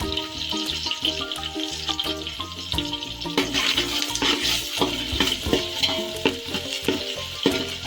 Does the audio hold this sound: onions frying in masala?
yes